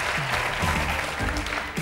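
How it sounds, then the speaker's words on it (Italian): A studio audience at an Italian television game show applauds continuously, a dense and even wash of clapping. Faint voices sound beneath it. "Vi fa onore questo lungo applauso che le avete tributato"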